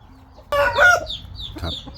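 Chicks in a nursery enclosure cluck nearby in a short burst, followed by a few high, thin peeps in a quiet setting.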